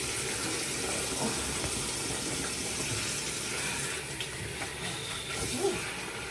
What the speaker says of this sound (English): I'm about to wash my face and stuff